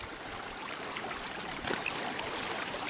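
Water running along an original Inca stone channel at hillside ruins, a steady close rushing and trickling wash that holds even throughout, with no voices.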